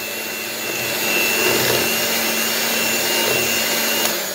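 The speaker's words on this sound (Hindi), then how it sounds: "अब रिफाइन डालने के बाद इसको हम फिर से बहुत अच्छे से फेंट लेंगे मिक्स होने तक" An electric hand mixer beats vanilla cake batter made from premix after refined oil is added, a steady close whirring hum that holds level and continuous throughout, with no talk.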